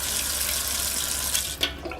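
Water runs from a tap in a steady, close hiss that holds evenly, with a brief clatter and splash near the end and no talking.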